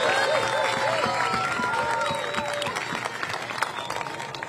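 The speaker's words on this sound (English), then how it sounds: "Can we get a loud round of applause for them" Crowd applause with scattered cheers at the opening ceremony of an international sand sculpting festival, honoring the visiting sculptors; a steady wash of clapping over tonal sounds, easing slightly toward the end.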